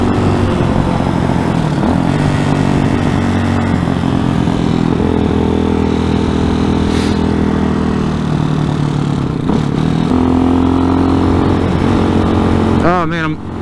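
RPS Hawk 250 Enduro motorcycle, a 2020 budget bike, accelerating on a back road top speed run, its engine droning steadily and loud throughout with wind rush, pitch shifting as it pulls through gears.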